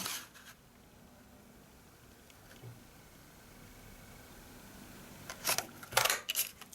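A 1.5-inch circle punch cuts a shape out of paper. After a quiet stretch, a few sharp close clicks and crunches cluster near the end.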